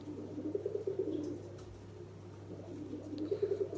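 Miro pigeons, a Turkish palace bird breed, cooing in low repeated phrases, with two bursts of rounded calls about three seconds apart over a steady background hum.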